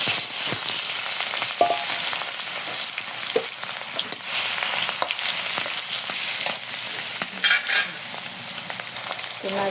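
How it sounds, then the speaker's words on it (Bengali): Steady, loud sizzling and crackling of fish frying in hot oil, with occasional stirring scrapes throughout. "তেল দিয়ে মাছ ভেজে নিই করে তাপে গেছে মাছ দিয়ে দিই"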